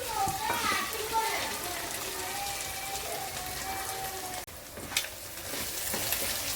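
Raw prawns frying in a pan for a prawn and cashew fry, a continuous close hiss and crackle of hot oil that briefly dips and picks back up, no talking.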